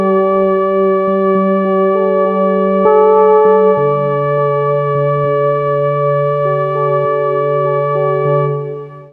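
A Vital software synthesizer layers a sustained drone with FM electric-piano-style keys, forming smooth chords that change every second or two, bright and clean with no voices, fading out at the end.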